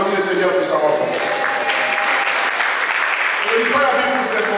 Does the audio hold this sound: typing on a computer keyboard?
no